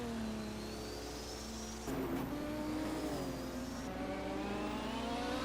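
A Porsche race car at a 1978 DRM round on a sprint circuit roars steadily with a loud, rising engine note that shifts abruptly as it passes, holding close and strong throughout.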